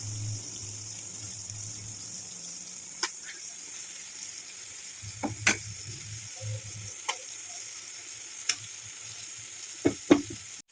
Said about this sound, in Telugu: ఫ్రై చేసుకున్న తర్వాత స్టఫింగ్ వంకాయలు ఇలా యాడ్ చేసుకోండి